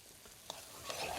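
Sherry poured into a pan for silky corn soup and stirred, giving a soft low sizzle with light spoon scrapes that builds toward the end, close and quiet with no talking.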